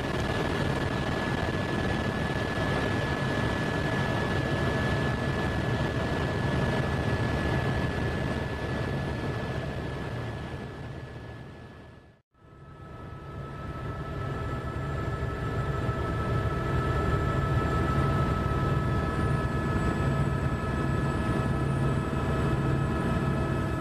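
Small airplane droning in steady flight on approach to Boulder City airport after a Grand Canyon tour, a continuous loud engine hum inside the cabin with a brief dropout midway, no talking.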